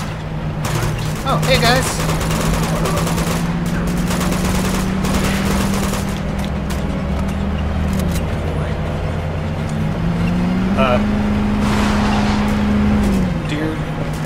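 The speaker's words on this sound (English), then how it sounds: "Who the heck is shooting at me?" Gunfire in Uncharted 2 during a vehicle chase, with scattered shots over a steady, loud engine drone from the vehicle. Someone talks over the noise.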